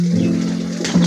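Domestic pigeons, including Sirazi birds, coo softly at feeding time: one sustained low, throaty coo near the mic, with a second coo starting at the end.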